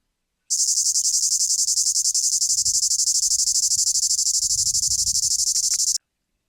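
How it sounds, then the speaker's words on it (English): Cicadas sing very loudly in a continuous, intense pulsing buzz that starts abruptly, holds steady for several seconds, then cuts off sharply, with faint low rustling beneath. "Why do cicadas sing so loud?"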